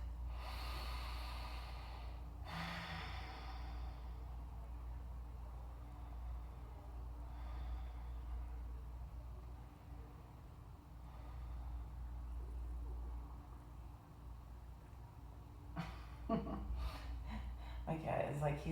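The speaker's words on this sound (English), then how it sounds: "My cat is like, he's kind of wheezy and he like snores when he breathes and sleeps." A wheezy cat snores and snorts through its breathing while asleep, with repeated nasal snorts and rough breaths over a steady low hum, close and fairly quiet.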